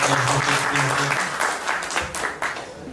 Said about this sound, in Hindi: एक बार जोरदार तालियों से स्वागत हम लोग करें